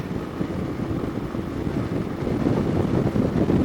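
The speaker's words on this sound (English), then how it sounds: "Wow, that wind's a bit blowy." Wind buffets the microphone during a first ride on a Keeway Superlight SE motorcycle, a loud, continuous low roar that swells slightly toward the end, with no voices.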